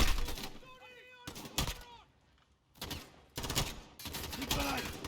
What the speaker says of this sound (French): Les coups de feu, bien sûr.